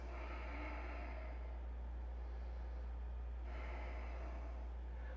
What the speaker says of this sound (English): Couple rounds of breath. Big inhales. Big exhales.